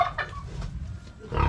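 Free-range piglets and chickens on a provincial farm: brief, close clucks and grunting animal sounds over a low rumble, in short bursts at the start and end.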